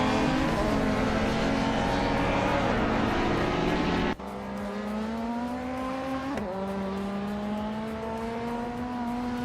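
Race car engines from a racing video game whine in steady, high-pitched drones, with pitch sliding as the cars shift gears, loud and continuous with a sudden drop partway through.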